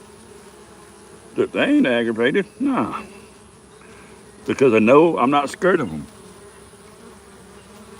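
Honeybees buzz steadily around a hive that has just been treated with acid against mites, a constant close drone under a man's speech.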